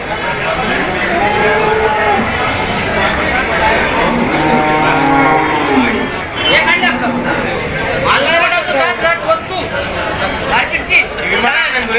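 HF and Jersey cows low at a busy cattle market in Dhule, with occasional moos mixed into constant crowd chatter while someone talks close by.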